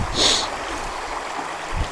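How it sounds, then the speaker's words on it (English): A stream runs quickly beside a wild campsite at Kielder, a steady broadband rush of water close by, with a couple of brief louder splashes; no talking. "got the stream running just right next to us."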